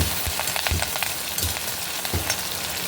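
Green chillies frying in a hot tempering of popping mustard seeds and roasted garlic for tomato pappu, a steady close crackling sizzle with occasional sharper pops and low stirring bumps.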